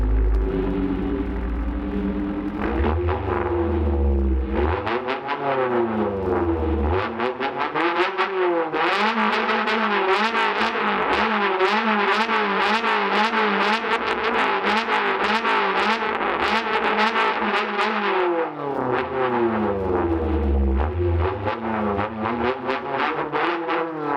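Simulated multicylinder car engine from software revs up from a low idle to a high, buzzing pitch, holds there, then drops back down, loud and continuous with no talking.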